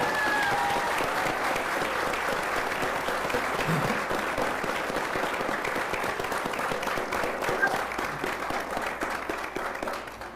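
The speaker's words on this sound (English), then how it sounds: "I hope you'll give her a round of applause" A crowd at a talk event with state legislative leaders applauds steadily and evenly for about ten seconds, a continuous patter of many hands at moderate volume that thins slightly toward the end.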